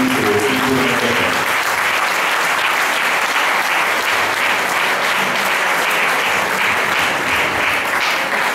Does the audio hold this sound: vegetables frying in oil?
no